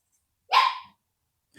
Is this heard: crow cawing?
no